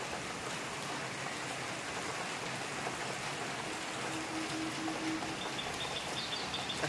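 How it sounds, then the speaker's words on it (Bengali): Rain falls in the morning as a soft, steady patter, with a few birds chirping faintly in the background. "এখনও দেখছি বৃষ্টি হয়ে যাচ্ছে।"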